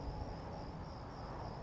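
Crickets chirp at night in the video game Skyrim, a steady high-pitched trill held over a soft, broad background of wind, with no speech.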